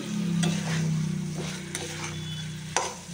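Taro pieces stirred in a pan of frying spice paste, a steady close sizzle with a few sharp scraping knocks of the spoon against the pan.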